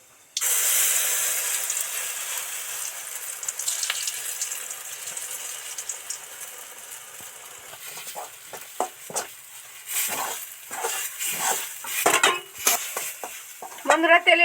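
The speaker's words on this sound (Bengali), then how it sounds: "আস্তে আস্তে আস্তে আস্তে নেড়ে নেড়ে এটা একটা মন্ড তৈরি করবো" Masoor dal dhoka mixture stirred slowly in a pan, a close, irregular series of soft scraping and clinking spoon strokes over a steady frying hiss, growing busier and louder toward the end.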